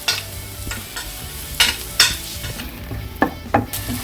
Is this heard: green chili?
yes